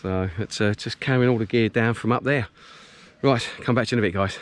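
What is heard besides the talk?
No distinct noise like a dog, phone or traffic.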